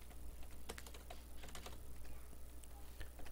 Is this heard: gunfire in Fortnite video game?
no